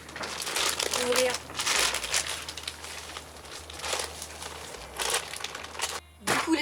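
Crinkling plastic as a bag of fine seed-sowing potting soil is opened, in repeated close rustling bursts with short pauses between them.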